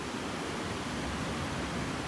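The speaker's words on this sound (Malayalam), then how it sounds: "ആ കാണുന്ന അരുവിയിലെ വെള്ളം ഒഴുകി പോകുന്നത് ഈ വഴിയാണ്" Water from a stream flows through a channel near a small bridge by a lake on a winter day, making a steady broadband rushing wash that stays even and close throughout, with no speech.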